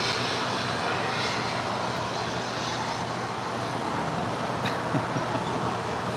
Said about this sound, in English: Polar Air Cargo, Flight 962, heading to Cincinnati. It's a 777 getting ready for a departure here on the 25s.